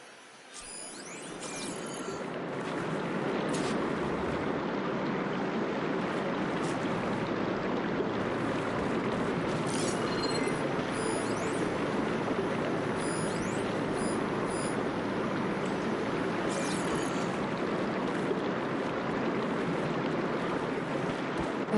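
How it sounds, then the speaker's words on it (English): Water rushes steadily through a room in the video game Horizon Forbidden West, a broad continuous wash that swells after a couple of seconds and stays constant, with faint clicks on top and no speech. "Aloy, I can hear water in the room again."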